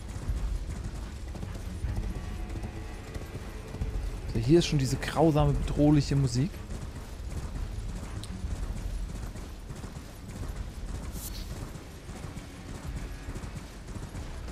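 Horse hooves clip-clopping under a mount while riding in Elden Ring: Shadow of the Erdtree, a steady trotting patter running beneath a man's speech and ominous game music, with a brief neigh-like burst partway through.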